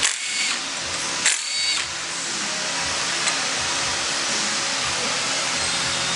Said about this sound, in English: I'll pop off the cam retainer plate and then check it out.